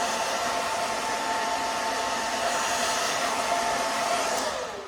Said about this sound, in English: I'm moving the blow dryer back and forth.